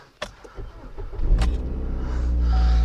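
A 2015 GMC Terrain's engine cranks and fires up after a few clicks and a key rattle, then settles into a steady idle heard from inside the car.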